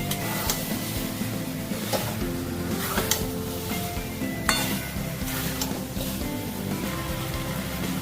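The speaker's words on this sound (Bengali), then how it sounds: "দেশি চিকেন কিন্তু খুব ভালো করে কষতে হয় খুব ভালো করে দেখো আমি কষে নিচ্ছি" Desi chicken sizzles steadily while being stir-fried in a pan, with a constant frying hiss broken by clinks and scrapes of a spatula against the metal, no talk over it.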